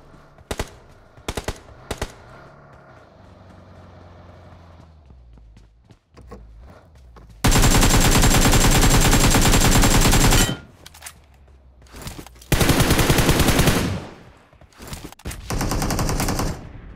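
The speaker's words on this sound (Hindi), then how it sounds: "सामने गोलियां चलती है, बंदे हैं," Loud bursts of automatic gunfire in a mobile battle royale shooter, long sustained volleys and shorter strings of shots, set between quieter stretches of footsteps and scattered single shots.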